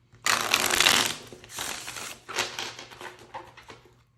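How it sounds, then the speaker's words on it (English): Tarot cards being shuffled by hand, a close, papery riffle in several bursts with short pauses between them, no talking. "I'm just going to shuffle."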